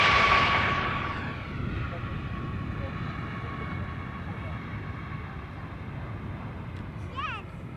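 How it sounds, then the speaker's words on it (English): Norwegian airliner in UNICEF livery arriving at Amsterdam Schiphol Airport, a jet roar that is loudest at the start and then fades to a low distant rumble, with talking over it. "Special livery arrival here, the UNICEF from Norwegian."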